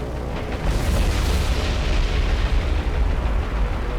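Bombs explode against warships during a naval air attack in War on the Sea, heard as loud, continuous, rumbling booms that roll on with heavy low-end weight throughout.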